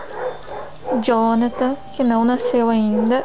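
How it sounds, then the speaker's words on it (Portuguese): Neighbours' dogs bark repeatedly in a residential setting, several loud, close yelping barks in quick succession while someone speaks Portuguese over them. "E os cachorros dos vizinhos resolveram latir logo agora que eu vou gravar esse vídeo"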